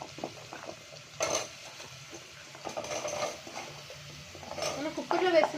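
Taro pieces tipped into a pan of cooked onions for taro curry, giving soft stirring scrapes, light sizzling and a few clinks of utensil on the pan, growing busier toward the end.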